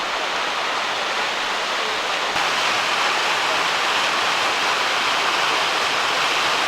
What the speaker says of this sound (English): This is the lunch spot just up from the falls. This is the creek that feeds into it.